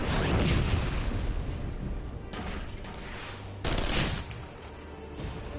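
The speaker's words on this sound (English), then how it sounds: "I have machine guns. And big explosions." A robot in Final Fantasy XIV fires machine guns and sets off explosions, a dense, loud burst of rapid gunfire and booms that eases, then surges again, with no speech.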